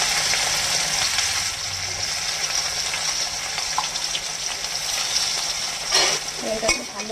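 Onion and green chilli frying in hot oil in a wok: a steady, loud, close sizzle throughout with occasional stirring scrapes and clinks, with no talking.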